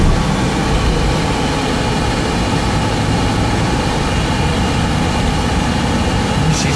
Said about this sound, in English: I'm going to give it a little gas.